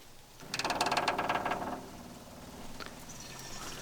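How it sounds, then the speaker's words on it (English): Electric fuel pump running on a long-dormant Chevy C10, a quiet rapid buzzing whir that swells for about a second then fades to a faint steady hum, close and with no talking. "I'm gonna hook up our electric fuel pump."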